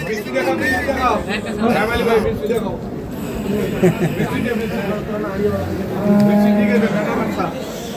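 Bull cattle at a rural livestock market, with a low moo rising near the end over constant crowd chatter and nearby voices talking.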